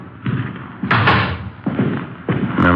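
An apartment building's front door is opened: a series of heavy thumps and rattling knocks, close and fairly loud, spread across a few seconds, with no clear talk.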